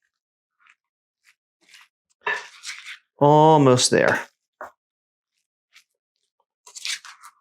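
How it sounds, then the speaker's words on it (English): Asian turkey meatball mixture worked by hand, giving soft squishy crunching in scattered short bursts, with a voice speaking briefly in the middle. "So we'll just mix this up to combine it well."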